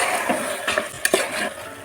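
A spoon stirs masala and mutton in a cooking pot for Bangalore-style bottle gourd mutton dal, with scraping and a few sharp clinks against the metal, close and uneven, over a soft sizzle.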